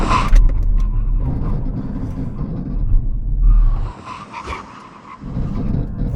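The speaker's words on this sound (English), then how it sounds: "full emergency stop" A full emergency stop from 70 in a BMW M135i, AMG A35, Audi S3 and VW Golf R: loud, close road and tyre roar with a brief squeal that surges and then drops away, with no voices.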